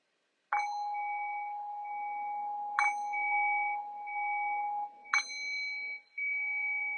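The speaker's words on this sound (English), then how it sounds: "I'll ring the sound of the bell to signal the end of this very brief guided meditation" A meditation bell is struck three times to close a guided meditation. Each clear ring starts bright, then hangs in a long sustained tone that fades between strikes, with no talking.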